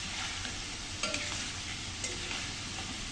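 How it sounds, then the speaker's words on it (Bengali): Chili powder being stirred into food frying in a pan: a steady broadband sizzle with a few soft scrapes of a spoon, close and even, no voices. "গুঁড়োটা দিয়ে হালকা একটু নেড়ে ছেড়ে নেব কাঁচা গন্ধটা যাওয়া পর্যন্ত"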